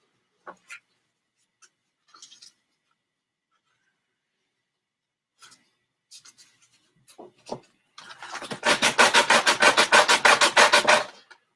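After a few sparse handling clicks and taps, an object is rubbed back and forth on sandpaper laid flat on a desk, giving a loud, rhythmic rasping scrape for about three seconds.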